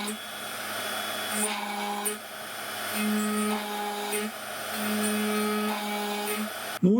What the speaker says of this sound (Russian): Последняя операция сверления.